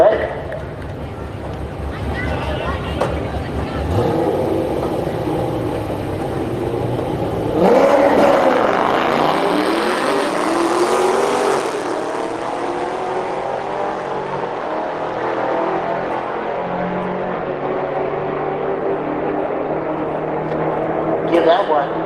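Drag race cars, a Dodge Demon, Hellcat Charger and C6 Corvette, roar loudly past at a strip, engine noise rising and sweeping as one car launches, with crowd and announcer voices running underneath throughout.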